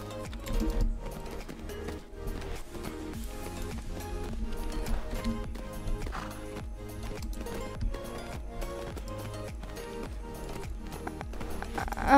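Pony hooves clip-clop in the video game Tales of Rein Ravine, a quick rhythmic run of hoofbeats set against a continuous game music bed, moderately loud and steady.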